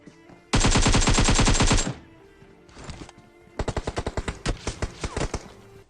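Bursts of rapid automatic gunfire in the video game PUBG on the Erangel map: one long sustained burst, a short pause, then a quieter string of shots followed by a rattling volley.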